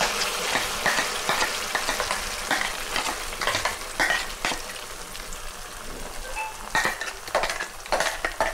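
Masala for a traditional Udupi-Mangalore mackerel curry fries in a pan and is stirred, a loud, close sizzle broken by repeated scraping strokes and pops.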